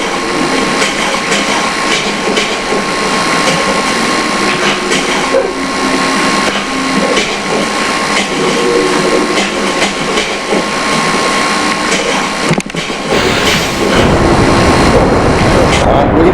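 Rocket engines firing at launch in the video game Kerbal Space Program, a loud continuous roaring rush that swells sharply near the end into a heavier low rumble.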